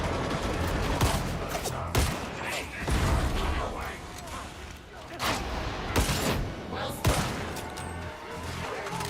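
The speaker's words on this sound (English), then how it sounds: "there's a gunner across the map shooting at me" Enemy gunner firing from far across the map in Helldivers, repeated bursts of gunfire with mechanical clatter and shifting combat noise, a voice talking over it.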